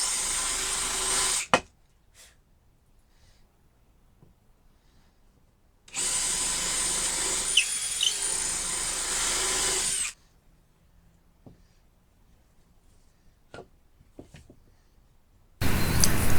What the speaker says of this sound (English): Just countersinking for the screws.